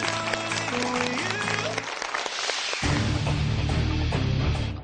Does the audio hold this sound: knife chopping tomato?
no